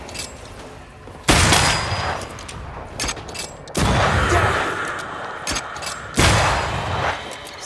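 Enemies open fire in Banishers: Ghosts of New Eden, with three loud bursts of rapid shooting, each starting with a sharp blast and then trailing off, separated by quieter stretches.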